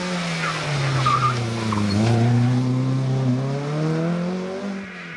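A rally car on a Jersey stage, its engine revving hard and dropping as tires squeal and skid through a turn, loud and close, engine pitch rising and falling with no voices.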